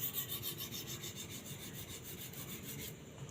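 A hard steel knife blade being sharpened on a natural Bogor whetstone, rhythmic back-and-forth rasping strokes in a steady repeating pattern, close and fairly quiet.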